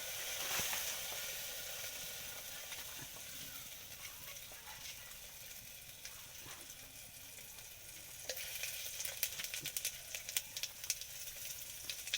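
Onion, garlic and green chilies frying in oil in a pot over a clay stove, a steady soft hiss that turns into sharper popping crackles toward the end, quiet and close with no talk.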